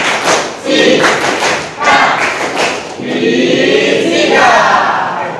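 A class chants the rhythmic 'tepuk fisika' physics clap routine, with loud rhythmic claps and thumps and a group of voices shouting together, close and energetic throughout.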